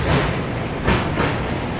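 The Simhapuri Express runs near Gudur junction with a loud, steady rumble of wheels and carriages, swelling in two brief surges.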